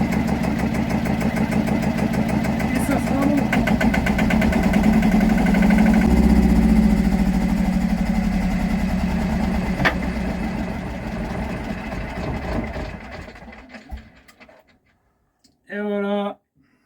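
An MWM/Yanmar diesel engine on a sailboat runs at a steady idle up close, then cuts off near the end, leaving a short burst of other noise.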